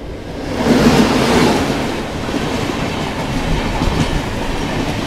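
Azad Hind Express on Indian Railways pulling away from a halt between Bilaspur and Nagpur, a loud, steady rumble of wheels and carriages that swells early, then settles into continuous running noise.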